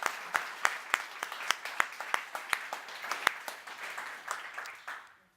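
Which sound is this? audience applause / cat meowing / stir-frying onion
audience applause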